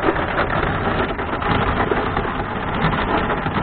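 Heavy rain in a summer thunderstorm pours down in a dense, continuous hiss, loud and close, drumming steadily on surfaces with no pauses and no voices.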